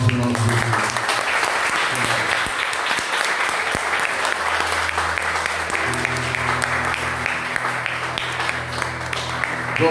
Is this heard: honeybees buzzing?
no